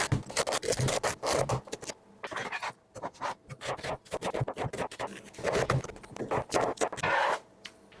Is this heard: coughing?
no